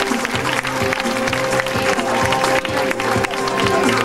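An audience at a summer pageant awards event applauds steadily, the dense clapping of a crowd filling the space continuously with voices mixed in.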